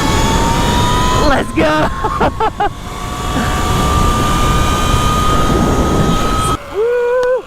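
New E-Ride Pro 3.0 and Talaria MX-5 electric dirt bikes race off together, a rising whine sweeping past close by, while voices shout and cheer over the start and finish.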